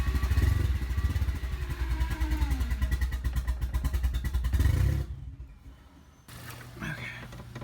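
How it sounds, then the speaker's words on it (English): A car with a Nissan SR20 engine cranks and coughs in a rapid uneven clatter of firing pulses, trying to catch and run for several seconds before cutting out, followed by quieter rustling and a voice. "So this was the first time that we tried to get the car running with Evan's help."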